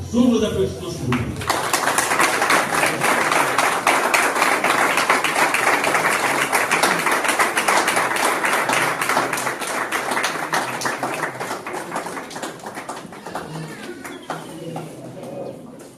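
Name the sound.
audience applause at a wedding ceremony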